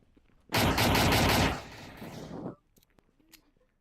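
Gunfire in the VR shooter BaM VR on a subway map: a loud, dense burst of rapid automatic shots lasting about two seconds, then tapering off, with faint clicks and handling noises afterward.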